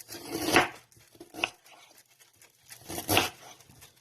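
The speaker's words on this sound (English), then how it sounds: "just chop it up good in the pot, chop everything up in the pot" Ginger is chopped in a pot with a dull knife, making a few close, dull knocks and scraping thuds in separate short bursts with quiet gaps between them.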